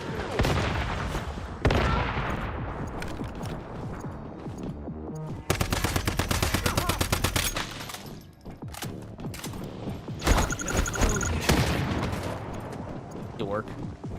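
Loud video game combat in Once Human: a grenade blast and long bursts of automatic gunfire, rattling close and heavy, with a player talking over the shooting.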